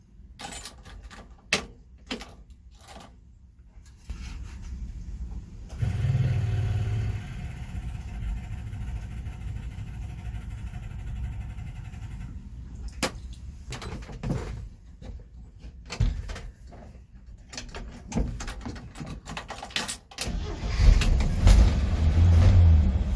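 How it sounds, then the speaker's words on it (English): A truck that sat for a week after an electric fuel pump install cranks with clicks and knocks, then fires up into a steady idle, followed later by a louder low rumble as the engine revs. "Fired right up, just the way it's supposed to."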